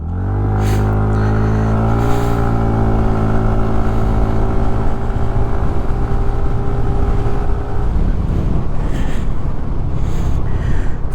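A TVS Ntorq 150 scooter accelerates hard from a standstill toward 60, its loud, close engine drone climbing steadily in pitch before giving way to rushing wind and road noise. No one speaks.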